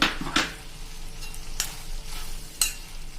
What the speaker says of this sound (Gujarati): 1 ટીસ્પૂન જેવું આપણે દેશી ઘી નાખી દેશું